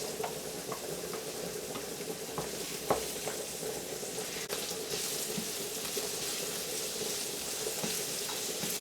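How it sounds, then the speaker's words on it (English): Finely chopped garlic fries in a pan with a constant, busy sizzle and faint crackle, broken by occasional light clicks of stirring, with no voices over it. "you don't want to fry it too long, because the garlic burns easily"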